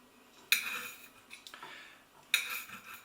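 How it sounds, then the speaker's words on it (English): A knife chopping a washed tomato on a board for a microwave tomato sauce with basil and garlic, two sharp clicking cuts about two seconds apart with a softer tap between, close and quiet, no talk. "I'm going to chop it as small as I can."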